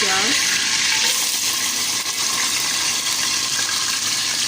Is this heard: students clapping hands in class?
no